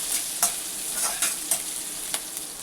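Crushed coriander seeds, cumin and chopped green chilies sautéing in hot oil in a pan, a bright continuous sizzle broken by repeated sharp stirring scrapes of a spoon, close and loud.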